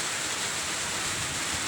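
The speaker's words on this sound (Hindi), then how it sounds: "ये बारिश हो रही है, आप लोग देख सकते हैं।" Steady summer rain pours down outdoors in an even, continuous broadband hiss, fairly soft and uninterrupted, with no voices over it.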